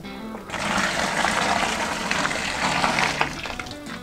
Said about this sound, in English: I'm gonna boil the kettle with another 2 liters of water. So in goes the other 2 liters.